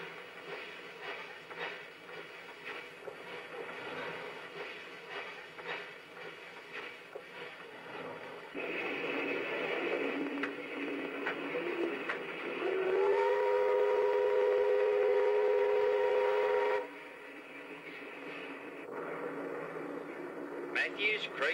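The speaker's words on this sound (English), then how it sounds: "Cameras are out as the train passes Lee, the highest point on the line." A steam train rumbles past under a narrator's voice on the Dorrigo line, then a long steady whistle sounds for several seconds before cutting off.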